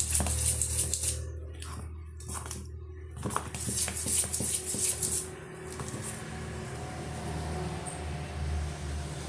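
A whisk beats sponge cake batter in a bowl, giving quick rhythmic clinking and scraping against the bowl that runs in bursts and then settles into a steadier churning, heard up close with no talk.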